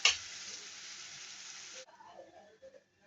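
Mashed potatoes are stirred into a bhaji mixture frying in a pan. A quiet hiss rises abruptly, holds for under two seconds and cuts off, followed by faint scraping and stirring noises.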